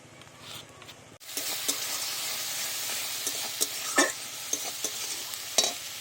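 Ginger garlic paste stirred into reddish fried onions in a pan for a Bengali crab curry: a quiet start, then a sudden burst of sizzling with repeated spatula scrapes and clatters over the frying, no speech.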